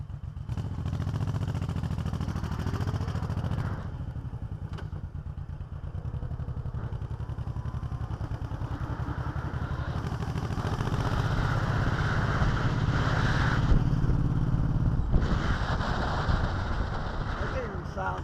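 A motorcycle engine ridden in the wrong gear, second, labors with a low, rough drone that runs steadily and swells louder toward the end, heard close up with clattering.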